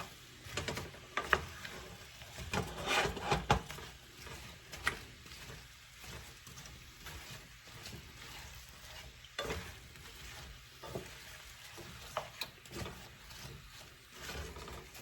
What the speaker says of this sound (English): You've got to stir these pretty much constantly until they get tender.